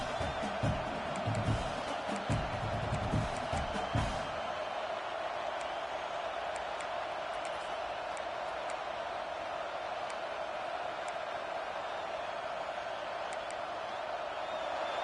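Stadium crowd in a college football video game, Michigan versus Miami, a steady loud roar that holds without a break, with a brief burst of louder low rumble early on.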